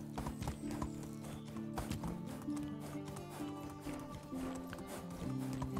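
Quiet, rapid clip-clop of galloping horse hooves in the video game Medieval Dynasty runs steadily under a background tone, with a brief whinny-like sound.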